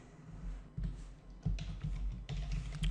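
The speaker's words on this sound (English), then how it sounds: "now we type" Keys typed on a computer keyboard while entering PHP code, in irregular bursts of soft clicks and taps over a low steady hum, fairly close and moderate in level.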